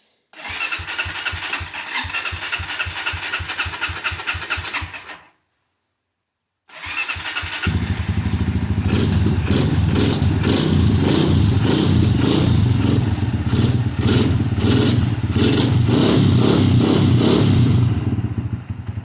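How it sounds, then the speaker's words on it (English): A Honda CRF230F dirt bike just after an air filter change starts up: loud rhythmic cranking, a brief silence, then the engine catches and runs at a steady, close, loud idle. "So right now I am going to start the bike up to make sure that I got everything correctly."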